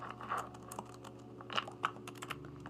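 A name is typed on a computer keyboard, with quiet, close, irregular key clicks in short bursts over a faint steady hum.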